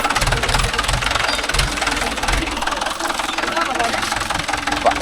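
A Mahindra 575 DI tractor working a cotton field, its diesel engine running with a steady, heavy low knocking throb that stays loud and close, while people talk over it.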